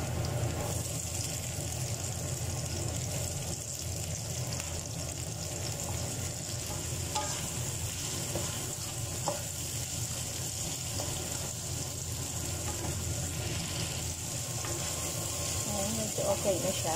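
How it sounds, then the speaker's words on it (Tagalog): Asparagus sautés in a frying pan, a steady sizzle with light scraping and stirring under quiet background noise throughout. "Mix natin ang asparagus."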